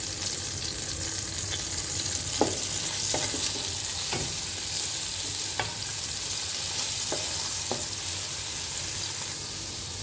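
Chopped garlic fries steadily in hot oil, a continuous broadband sizzle at close range with several sharp clicks and spoon scrapes scattered throughout, and no voices.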